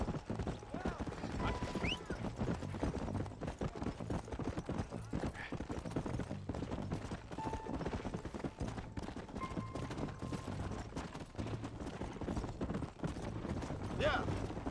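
Horse hooves in the video game Red Dead Redemption clip-clop in a steady, close, continuous trot, with a few faint game sounds on top and speech-like voices mixed in.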